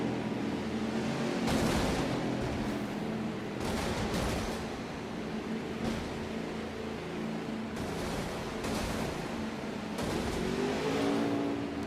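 Race trucks at a Phoenix Raceway truck series event rolling onto pit road, a loud, steady engine roar with bursts of revving and crackling exhaust throughout.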